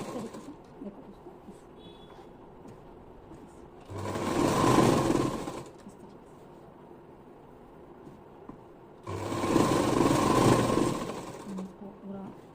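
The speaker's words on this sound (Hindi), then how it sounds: "इसको पूरा सिल लेना है ऐसे ही" Electric sewing machine stitching a belt onto a salwar, running in two loud bursts of about two seconds each separated by quieter pauses with a voice talking.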